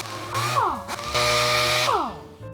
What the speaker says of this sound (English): doing it with the DA is a lot quicker than probably doing it by hand, getting some of this surface rust off